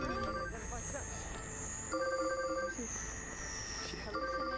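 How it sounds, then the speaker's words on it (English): Electronic alarm tones ring in the time-loop shooter game Deathloop, repeating beeping bursts with steady high sustained tones over game ambience, while a person talks over it. "Wait, did I just make the alarm go off?"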